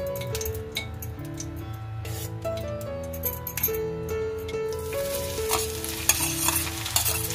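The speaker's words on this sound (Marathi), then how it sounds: "तर मी आधी कढईमध्ये ना 2 चमचे घी घालून घेते." Grated coconut and jaggery frying in ghee in a kadhai for modak filling, with a spoon stirring and scraping; continuous close sizzle with clinks of the spoon against the pan and a hum throughout.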